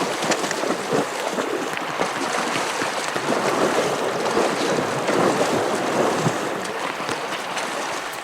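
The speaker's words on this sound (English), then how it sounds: "This river's uncrossable. Look at that, that's raging rapids." Raging river rapids rushing in a constant broad roar, loud and steady with buffeting wind noise and no voices.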